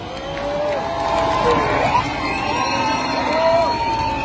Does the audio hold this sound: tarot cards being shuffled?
no